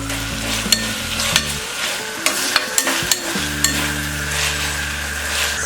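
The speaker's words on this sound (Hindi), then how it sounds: "सारे वेजिस को हम हाई फ्लेम में फ्राई करेंगे।" Vegetables stir-frying on high flame for soya chunk fried rice, a loud continuous close sizzle broken by repeated sharp metallic clinks of a spatula against the pan, no talk.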